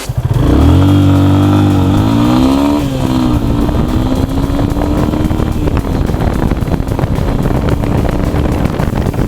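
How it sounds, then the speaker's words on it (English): A Yamaha FZ25 quarter-litre motorcycle engine runs loud and close, revving up with rising pitch and then settling into a steady drone. Wind buffeting is heavy throughout and there is no talking. "The engine, the way it sounds, although it sounds a little more meatier than the FZ16"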